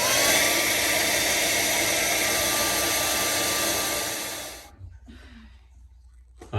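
A loud, steady blower or hair-dryer-type roar works on ice inside a Samsung refrigerator that is not cooling. The roar cuts off abruptly near the end, leaving a few faint handling knocks.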